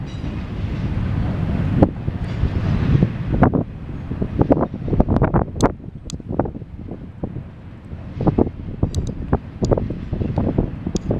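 A CSX eastbound intermodal freight train passes in Fostoria, Ohio, with a continuous rumble of rolling cars, scattered clanks and rattles, and gusty wind buffeting the microphone.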